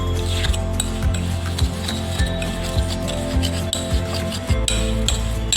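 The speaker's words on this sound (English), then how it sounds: "And then again you need to give a light mix in the bowl." Creamed butter and sugar being mixed in a bowl for an eggless chocolate cake, heard as a continuous scraping, rasping rub with regular soft knocks of the utensil against the bowl.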